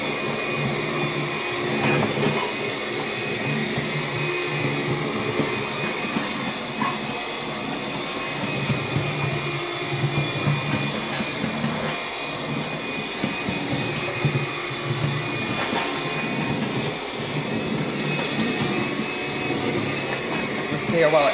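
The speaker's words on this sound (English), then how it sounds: "I don't know why the motor keeps making this noise." An upright vacuum cleaner motor runs continuously during a cleaning test, a loud steady whine and rushing roar with an odd extra tone, close by, and a voice faintly present beneath it.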